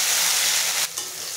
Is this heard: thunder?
no